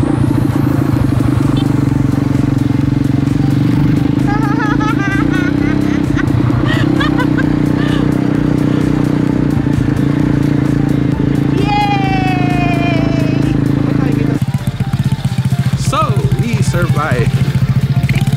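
The engine of an automatic motorbike drones steadily and close by on a first ride, a constant low hum that shifts near the end, with voices talking over it.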